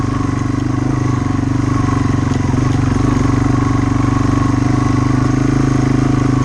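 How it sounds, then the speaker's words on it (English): A Yamaha TW200 motorcycle engine cruising in second gear at lowered revs gives a steady, loud, close thumping drone with mechanical clatter, unbroken throughout. "When you jump up into second, the revs drop considerably, but still cruisable for sure."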